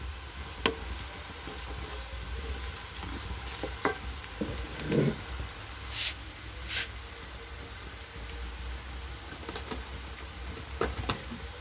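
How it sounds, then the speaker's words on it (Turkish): A roasting mixture for mehir soup is stirred continuously in a pan, giving soft scrapes and taps under a steady sizzling hiss, close and moderately quiet. "Şöyle iyice pembeleşince sürekli karıştırıyoruz artık."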